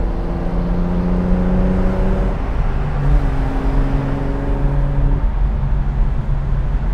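A 1972 Datsun 240Z with a manual gearbox idles close by, its engine holding a steady hum with slight shifts in pitch as the revs change.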